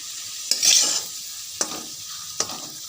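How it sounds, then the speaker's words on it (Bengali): Potatoes frying in a pan over steady low sizzling, with three sharp scrapes of a spatula stirring them and a brief louder burst of sizzle after the first. "তো হালকা আলুটা ভাজবো"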